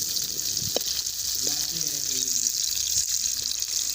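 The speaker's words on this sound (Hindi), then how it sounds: "आप देख सकते हैं हमारी प्याज ब्राउन हो चुकी है" Onions browning in oil in a frying pan, a steady bright sizzle throughout, with a few soft stirring knocks and faint background voice murmurs beneath.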